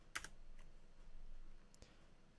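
Faint typing on a computer keyboard, a short quick burst of clicks at the start followed by a couple of isolated keystrokes over a quiet background.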